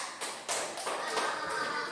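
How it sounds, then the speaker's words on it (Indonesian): Students in a Grade 5 elementary school classroom clap briefly in scattered bursts, a few uneven hand claps and taps, faint and close, with some murmuring voices. "Ya boleh tepuk tangan."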